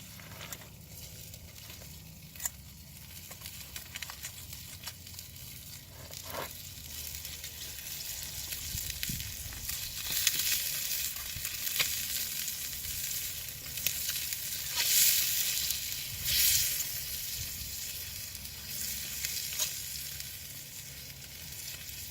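Food sizzles steadily in a stainless steel pot set on campfire coals, a continuous frying hiss that swells louder midway with faint popping, no voices.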